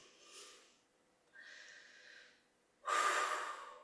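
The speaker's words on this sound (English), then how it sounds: "Make sure we're breathing out through pursed lips." Breaths during a breathing exercise class, with air blown out through pursed lips in soft, breathy bursts, the last one sharper and louder, separated by short quiet gaps, close to the microphone.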